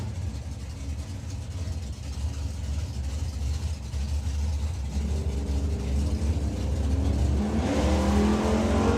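A 1965 Ford Mustang and a 1963 Dodge roar at a nostalgia drag race, their engines droning loudly and steadily before one rises in pitch as it revs and accelerates.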